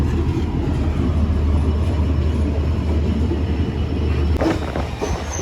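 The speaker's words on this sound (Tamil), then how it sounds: "ஸ்டேஷனில் வந்து நிற்குது ட்ரெயின்" A train standing at a station on the Jaffna to Colombo line gives off a steady low rumble and hum with broad noise, close and fairly loud, with a brief clatter near the end.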